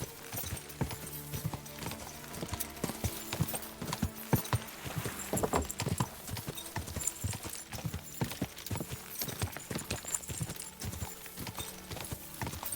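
Horse hooves clip-clop at a steady riding rhythm in Kingdom Come: Deliverance 2, close and moderately loud, with a brief whinny and faint background sound.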